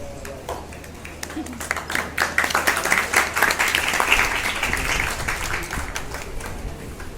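Sustained applause from a large audience, many hands clapping densely and steadily, building slightly and continuing throughout.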